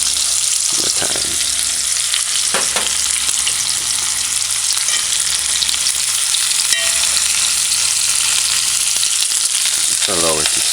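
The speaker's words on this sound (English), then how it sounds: "Just allow it to saute for like 30 seconds and then stir fry it" Garlic, onion, scallion and thyme sizzle steadily in a hot pan, a loud continuous frying hiss with occasional scrapes and stirs, no voices.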